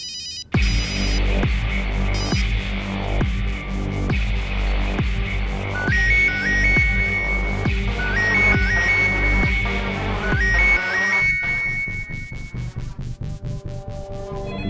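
A telephone ringtone repeats in a steady electronic pattern over a tense drama music bed, ringing on without being answered, with no speech during the rings.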